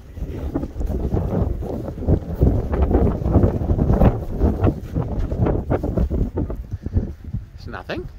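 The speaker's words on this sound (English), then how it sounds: "It's very windy out right now." Strong wind gusts roar across the microphone outdoors near a greenhouse, a continuous loud rumbling buffeting that rises and falls throughout without letting up.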